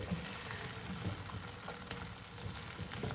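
Rusk halwa cooking in a pan, giving a steady close sizzle with soft bubbling and popping throughout, no voices.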